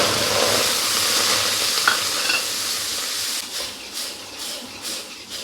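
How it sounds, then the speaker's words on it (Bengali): Yogurt stirred in a hot wok gives a loud, continuous sizzle with rhythmic scraping of the spoon against the pan, close up, easing slightly toward the end. "দইটাকে আমি এইভাবে নাড়তে থাকবো"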